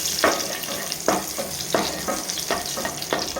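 Chillies fry in hot oil left from frying pappadam, giving a steady sizzle with repeated sharp bursts of crackling at roughly even intervals as they are stirred, close and clear with no talk.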